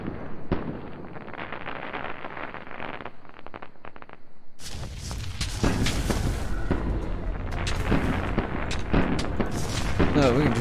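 Rapid bursts of fireworks explosions in the modded survival game ARK: Survival Evolved (Primal Fear), crackling pops that grow denser and louder partway through, layered over game noise.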